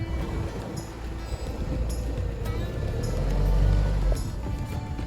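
A 2023 Mahindra Thar with 4x4 engaged and traction control off wades through a river, giving a steady rush of water and engine rumble that swells midway. Wind buffets the microphone.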